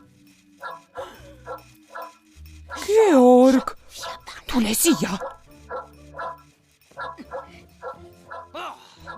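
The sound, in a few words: cartoon dog barking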